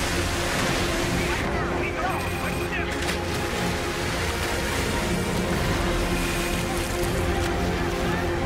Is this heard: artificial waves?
yes